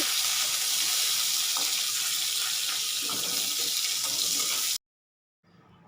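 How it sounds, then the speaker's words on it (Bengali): Water poured into turmeric in a kitchen, a steady close splashing stream lasting several seconds before it stops suddenly. "আমি হলুদের মধ্যে একটু জল ঢেলে রাখছি"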